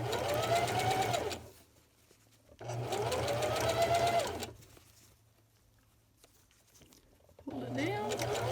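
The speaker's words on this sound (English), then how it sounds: "I'm just going to sew right along that edge" Sewing machine stitching along the edge of a double-layer fitted cloth face mask, running in two steady bursts with a pause between and starting again at the end, close and clear with no talk.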